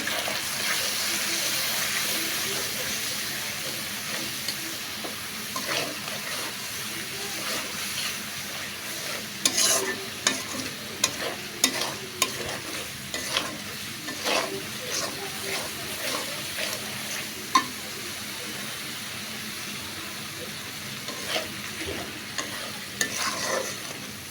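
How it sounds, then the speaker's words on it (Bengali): Ground spices with a splash of water fry and get stirred in a pan for a beef and potato curry, a low steady sizzle broken by frequent scraping spoon strokes and clinks. "একটু বেশি করে মশলা ভেজে নিব।"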